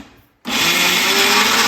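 An electric mixer grinder starts abruptly after a brief quiet moment and runs loud and steady, whirring as it grinds dry spice powder with onions, close by.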